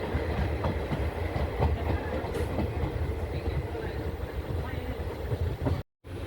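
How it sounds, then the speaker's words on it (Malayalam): The Guruvayur Express pulls into Kadayanallur station in rural Tamil Nadu, a loud, continuous rumble with rattling wheels and carriages heard close from on board, cutting off abruptly at the end. "ട്രെയിൻ അങ്ങനെ കടയനല്ലൂർ റെയിൽവേ സ്റ്റേഷനിലേക്ക് എത്തിയിരിക്കുകയാണ്."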